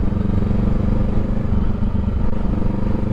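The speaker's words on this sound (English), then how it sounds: "I told you guys I don't like riding over speed bumps." A 2023 Honda Rebel 500 motorcycle rolls over speed bumps at a research lab campus, its engine a steady, loud, low rumble heard up close with faint clatter along the way.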